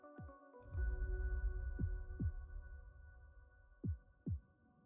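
A heartbeat sound effect plays as a low, muffled throbbing: soft paired thumps repeat over a deep hum, quiet and steady, with no voices.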